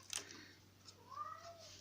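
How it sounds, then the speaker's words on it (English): A cat meows once, a faint rising-and-falling call near the end, alone in a quiet room with a low steady hum. "There's my cat, what you hear?"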